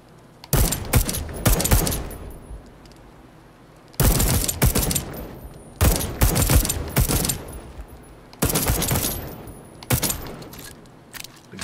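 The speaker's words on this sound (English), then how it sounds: "Squeeze off a few rounds." Old-fashioned firearm fire in the video game Deathloop: several loud, sharp volleys of shots in bursts, each with a booming, bass-heavy report and a rattling tail, spread over about eleven seconds with short gaps between.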